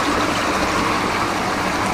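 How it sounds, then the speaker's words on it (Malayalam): Small stream trickling through a cave passage near Munnar, a steady close wash of flowing water with no break and no voices. "ഇതിന്റെ അകത്തൂടെ ഒരു തോടൊക്കെ ഉണ്ട് കേട്ടോ, ഒരു കുഞ്ഞു തോട്."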